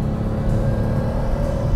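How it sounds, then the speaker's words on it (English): RUF CTR Yellowbird engine drones with a steady, turbine-like whir and low rumble, a continuous loud hum heard from inside the car without any talk. "The engine has a turbine-like whir to it"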